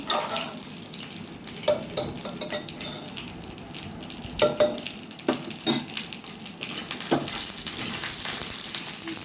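Whole spices for a tempering fry and sizzle in a hot pan for mixed vegetable dal, a steady close crackle broken by scraping stirs and light clinks of a spoon against the metal.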